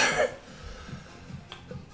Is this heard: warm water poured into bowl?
no